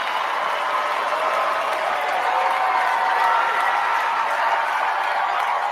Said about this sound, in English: Oh, the crowd goes crazy.